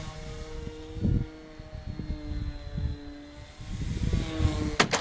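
A small, paper-thin model aeroplane flies overhead with a thin, buzzing propeller drone that rises and falls in pitch, mixed with wind rumble and handling noise.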